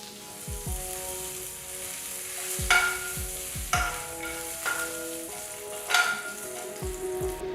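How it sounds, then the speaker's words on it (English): Mustard seeds, red chilies and curry leaves splatter in hot oil, a steady close sizzle broken by several sharp crackling pops and light stirring scrapes, with no one talking. "once the mustard seeds start splattering, just add the pieces"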